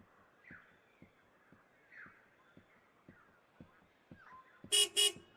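Two short loud car horn honks close by at the end, after a stretch of rhythmic clip-clopping and faint squeaks.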